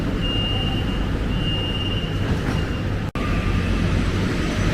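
An LRT Jabodebek light rail train runs between Harjamukti and Dukuh Atas, heard from inside as a steady loud rolling rumble with a faint high electric whine and a brief click near the end.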